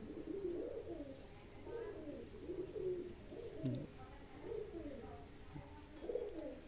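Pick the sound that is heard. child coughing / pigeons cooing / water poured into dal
pigeons cooing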